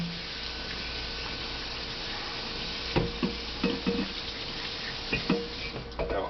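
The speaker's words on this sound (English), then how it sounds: "all it takes to clean the juicer is a quick rinse" Running tap water hisses steadily while a Norwalk juicer part is rinsed, with sharper clatters and splashes as pieces are moved under the flow in the second half.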